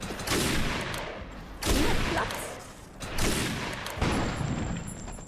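Heavy gunfire in the shooter game Defiance, dense continuous volleys that swell and fade in about three loud waves, close and filling the whole stretch with little else audible.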